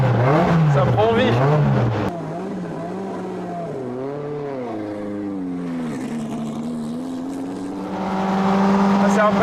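A Renault rally car's engine roars loudly, its pitch rising and falling through revs and gear changes, swelling again at the end, with a voice talking over it at times.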